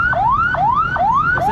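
Ambulance siren on a city street, loud and close, rising wail-like sweeps repeating four times in quick, regular cycles with nothing else heard over it.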